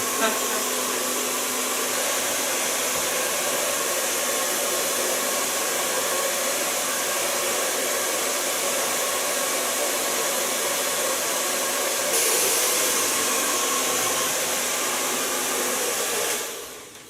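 A hair dryer blow-drying a short layered bob in a salon, a loud continuous airy roar held close throughout that shifts slightly in pitch partway through and cuts off at the end.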